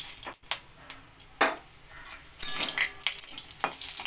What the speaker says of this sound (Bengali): এবার এই তেলের মধ্যে আমি কিছু যে বড়ি নিয়েছি, সেই বড়িটা আমি একটু লাল করে ভেজে নেব